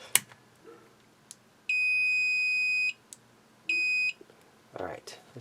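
A multimeter in continuity mode gives two sustained electronic beeps, each lasting a second or more, with brief handling clicks and a short voice around them, during testing of a Game Boy Advance SP switch.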